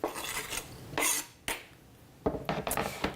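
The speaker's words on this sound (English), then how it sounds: "we're going to add our tomatoes now that they're chopped" Chopped tomatoes are tipped into a salad bowl with a few sharp utensil clatters and scrapes against the dish, separated by short quiet gaps.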